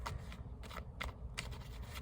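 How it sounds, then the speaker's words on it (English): Tarot cards shuffled by hand, a quick run of soft riffling bursts at an uneven rhythm, quiet and close, with no one talking. "I'm gonna shuffle."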